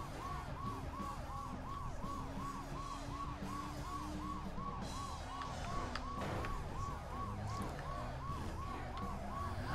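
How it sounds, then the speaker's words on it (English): A police siren wails in steady rising-and-falling cycles throughout an arcade driving game running on Teknoparrot, loud and continuous over a rumbling bed of engine and game noise. "Turn on the sirens."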